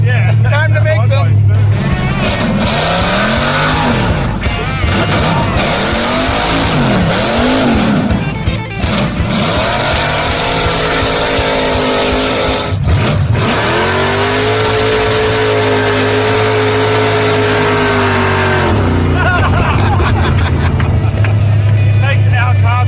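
A 1969 Ford Mustang Mach 1 does donuts in a cul-de-sac, its engine revving hard and rising and falling in repeated sweeps as the tires squeal. The loud engine stays close throughout, with voices talking over it.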